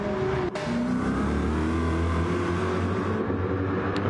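A Porsche race car in a Jordan livery in Gran Turismo 7, on the Red Bull Ring during an endurance race, holds a loud, steady engine roar close up with harmonic whine throughout, without speech.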